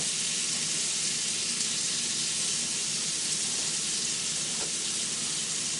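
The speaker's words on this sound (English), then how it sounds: "we're going to saute these over on this little flat grill" Chopped onions and jalapenos saute on a small flat grill, giving a steady, even hiss of sizzling that stays constant and moderately close with no voices.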